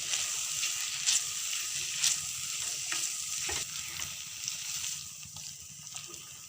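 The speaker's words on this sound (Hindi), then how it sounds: "अब इन सभी मसालों को पहले हम भूनेंगे इसमें।" Biryani masala spices fry in a pot with a continuous close sizzle, broken by repeated scrapes and taps of a spoon stirring through.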